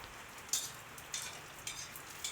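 Light rain falling outside a modest rural home during the rainy season, a soft steady patter with a few sharper drip-like bursts, faint and distant with no talking.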